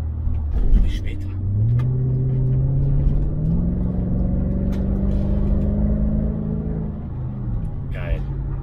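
A Mercedes AMG running on an LPG gas system accelerates, its engine droning and rising steadily in pitch under a deep rumble, close and loud, with a short pause before it pulls again near the end.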